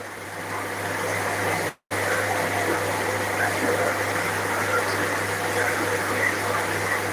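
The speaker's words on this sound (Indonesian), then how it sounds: "Karena udah dibantu dengan air terjun itu sudah menambah oksigen" A small artificial waterfall pours into a narrow fish pond stocked with red tilapia, a steady close rushing wash with a constant low hum beneath it, briefly cutting out once.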